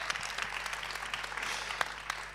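Applause for a singer from a studio audience, a moderate steady patter of many hands that carries on throughout with a low hum underneath.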